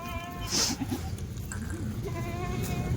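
Kathiawadi goats bleat at a livestock market, two or three close, loud bleats over a background of milling animals and crowd noise.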